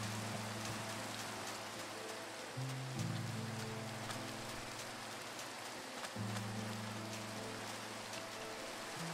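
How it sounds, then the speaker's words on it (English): Rain falling over a desert in the Minecraft game, a steady hiss of drops running continuously under a low looping tone, with no talk. "It's raining in the desert."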